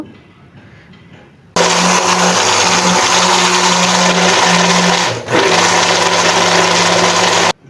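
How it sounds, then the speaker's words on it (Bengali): Electric mixer beating cake batter of eggs, sugar and soybean oil: after a quiet start it switches on abruptly, running loud and steady with a brief dip midway before cutting off at the end. "তারপর হচ্ছে সবগুলো উপকরণ একসাথে হচ্ছে এখন আমি বিট করে নিচ্ছি"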